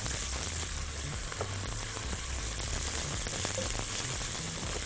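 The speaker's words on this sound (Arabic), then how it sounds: "السمنه، نحط البصل" Onions frying in ghee in a pan give a steady, close sizzle with fine crackling throughout, a continuous even hiss with no talking.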